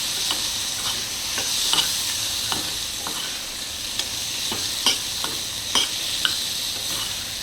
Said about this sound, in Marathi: चवीनुसार मीठ, गूळ आणि परत एकदा हलवून घेतो